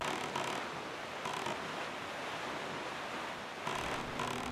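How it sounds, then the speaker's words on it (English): Wind and ocean waves at night in The Legend of Zelda: The Wind Waker, heard as a steady broadband wash of surf and wind that swells slightly in places, with no voices. "the only sound emanating from the wind and the creaking of your boat as you rock back and forth across the waves."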